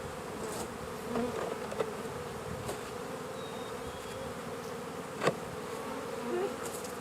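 Honeybees buzz around an open beehive during a beekeeping class outdoors, a dense, steady hum of many insects with a few louder passes close by and faint clicks in the background.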